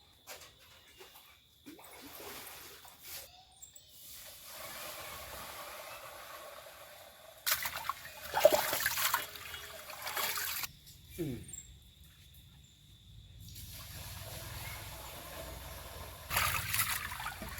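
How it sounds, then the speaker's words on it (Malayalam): Three kilograms of Malabar biryani rice being washed by hand in water for a village festival batch, with intermittent sloshing and trickling bursts, fairly close and moderate in level, separated by quiet pauses. "മൂന്ന് കിലോ ബിരിയാണി റൈസാണ് എടുത്തിരിക്കുന്നത് മലബാറിൻ്റെ അതൊന്ന് നല്ലപോലെ കഴുകിയെടുക്കാം"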